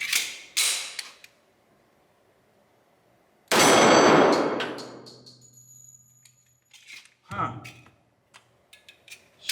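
A Smith & Wesson SW1911 E Series pistol fires a single round at a target, one sharp loud crack with a quick decaying tail, framed by scattered metallic clicks and handling noises before and after.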